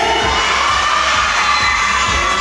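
Audience at a community singing contest cheers and shouts loudly in a dense, continuous crowd roar, with excited high-pitched voices and children's yells throughout.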